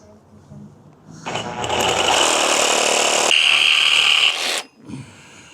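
A power tool trims about 5 mm off the end of a roof bar on a Transit Custom camper van: a sharp whining cut starts after a second, holds steady and loud, rises in pitch near the end, then stops abruptly.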